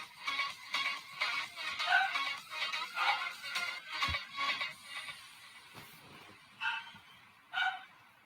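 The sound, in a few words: dogs barking in background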